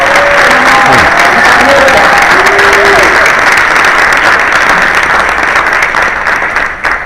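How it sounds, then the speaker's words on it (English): A big round of applause for award recipients at a civic leadership event, loud and sustained clapping from a large crowd, with a few faint voices and cheers mixed in before it slowly tapers. "Please give them a big round of applause."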